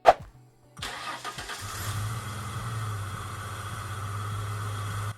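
A Ford Mustang engine with a misfire cranks and catches after a short click, then settles into a steady low idle hum nearby.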